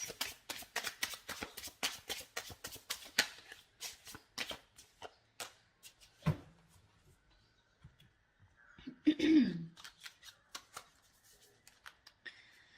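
Tarot cards shuffled by hand, a quick run of crisp riffling flicks that slows into scattered slaps and soft card handling, close and fairly quiet with no talking.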